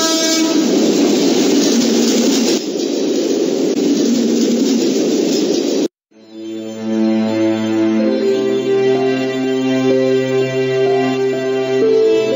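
A train roars past on a railway line with a loud, continuous rumble, then the sound cuts and a long, sustained multi-tone horn blast sounds close by.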